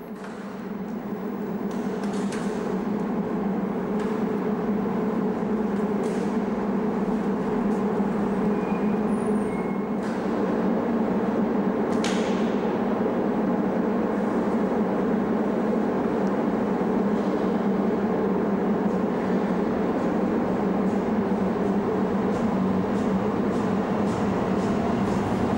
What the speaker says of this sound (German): Auf der U7 fährt noch die Baureihe U2, der erste U-Bahn-Typ in Frankfurt.